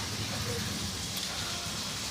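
Continuous rainfall makes a steady, even hiss with faint pattering drops, unbroken from start to finish.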